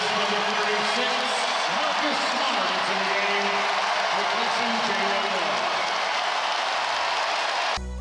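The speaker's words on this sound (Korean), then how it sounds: "이적 이후 보스턴을 처음 방문한 스마트가 관중들의 뜨거운 환호를 받습니다" Boston home crowd at an NBA game between Memphis and Boston cheering and applauding Marcus Smart on his return, a dense steady roar of applause and cheers filling the arena throughout, ending abruptly.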